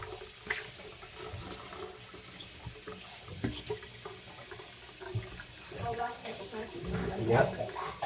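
Water runs from a sink tap in a steady splashing stream at close range, while people talk over it.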